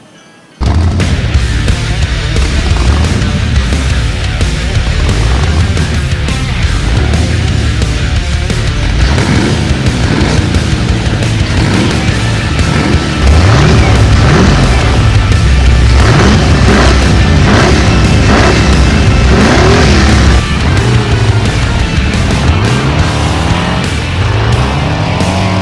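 A vehicle fitted with a custom skull air cleaner roars nonstop on a test ride, a loud, dense engine drone with shifting revs and rushing wind, no voices.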